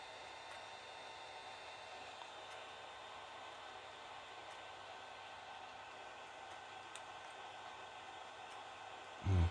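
A 3D printer prints with clear PLA filament, giving a steady, faint, even whir with no talking, and a short louder bump at the very end.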